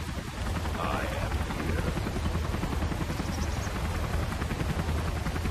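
Gunship helicopter from the Command and Conquer Generals Zero Hour video game, a steady rotor roar that holds loud and even throughout without breaks.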